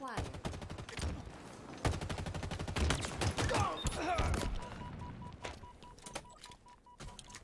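Commando rifle firing in Halo Infinite, rapid bursts of loud close automatic shots in quick succession, with brief pauses and a tonal beeping alert near the end.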